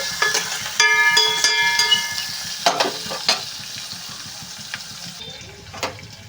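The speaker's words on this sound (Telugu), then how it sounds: "ఇవైతే ఫ్రై అవుతున్నాయి కదండి ఇది ఫ్రై అవుతాయి" Tempering spices for upma sizzle and crackle in hot oil, with a spoon repeatedly scraping and stirring the pan up close.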